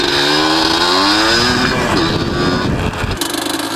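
Motorcycle engine running close and loud without pause, its steady drone sweeping up and down in pitch as the bike revs, with wind buffeting over it and no talk.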